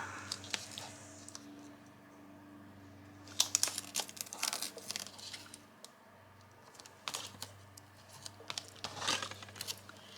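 Double-sided tape is peeled from its backing and pressed onto a paper mini album, giving close, crinkly tearing bursts and soft sticky rustles in scattered clusters against a quiet room.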